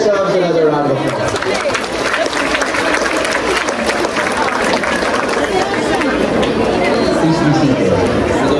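A large audience at a teachers' oath-taking ceremony at PICC claps steadily and loudly, sustained dense applause mixed with crowd chatter and cheering throughout.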